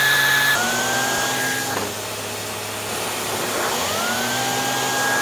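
A Bissell CleanView Pet vacuum cleaner runs with its turbo eraser pet tool, a loud steady motor whine whose pitch drops and rises again as the tool meets and leaves the surface.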